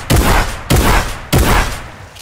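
Three loud, close shotgun blasts from a new Fortnite shotgun, spaced evenly about two-thirds of a second apart, each a sharp crack with a short decaying tail, with no talk over them.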